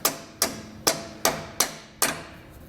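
A hammer taps a Firestone Ride-Rite air helper spring bracket into place on the axle housing of a 2022 Chevrolet truck: six sharp metallic strikes at an even, unhurried pace, close by, with no talk.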